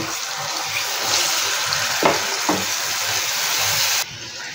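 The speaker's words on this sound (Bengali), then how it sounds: "এবার এটাকে একটু ভাজা ভাজা করব।" Continuous sizzling and hissing of okra with mustard seeds and salt frying in a pan on the heat, with a couple of brief clinks partway through and the sizzle dropping slightly near the end.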